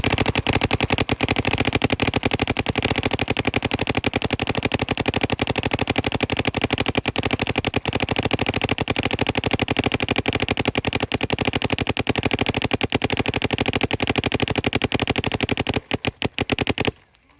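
Paintball marker firing at a very rapid rate, fed by a Bunkerkings CTRL 2 loader holding a full hopper of balls, an unbroken loud rattling stream of shots that stops abruptly near the end.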